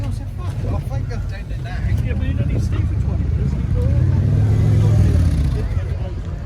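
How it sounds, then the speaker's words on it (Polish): Harley-Davidson motorcycles gather at a Sunday rally in a town centre, a steady low engine rumble swelling toward the end under constant crowd chatter and people talking. "Niedzielny zlot harlejowców w centrum miasta."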